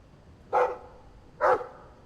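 A Mabari war dog in Dragon Age 2 barks twice, close and clear, about a second apart, over a low quiet background.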